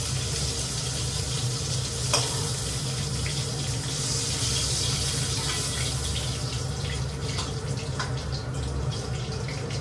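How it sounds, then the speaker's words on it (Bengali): Rohu fish pieces frying in a pan give a steady, close sizzle with faint stirring and clinks, no talk. "এখন মাছগুলো ভাজছি"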